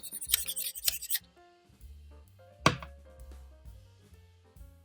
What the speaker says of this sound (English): place the scissors on the small side and rub back and forth for a while